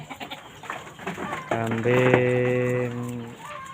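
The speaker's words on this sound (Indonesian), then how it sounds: "ini ada kambing" A goat bleats loudly up close, a long wavering cry, with other farm sounds around it including ducks and geese.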